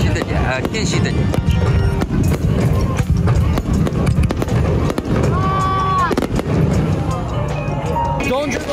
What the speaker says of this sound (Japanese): 花火すごいね